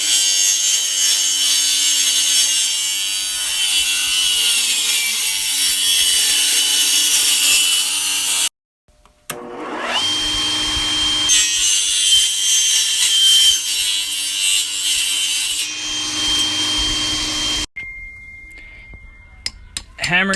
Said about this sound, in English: I'm going to use this old oak flooring and rip off these grooves to clog my holes up with.